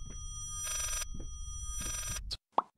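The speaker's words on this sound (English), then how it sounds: "Pick up this damn phone." In the horror video game Layers of Fear, an old-fashioned telephone bell rings loudly in two long bursts over a low droning backdrop, then cuts off into silence with a brief sharp tone.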